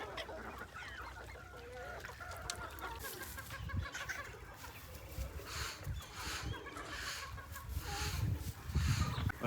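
Chickens cluck and fowl call throughout a village chicken coop, with a rooster among them, the flock noise growing a little louder toward the end; no one speaks.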